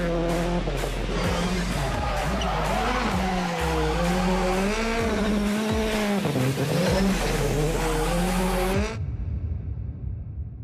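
A Citroën Rally2 rally car roars nearby, its engine revving and shifting through gears with tire squeal, loud and sustained before cutting off abruptly near the end.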